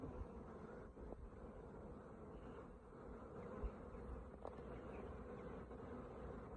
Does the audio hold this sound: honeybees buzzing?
yes